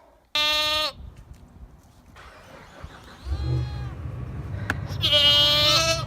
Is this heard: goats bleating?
yes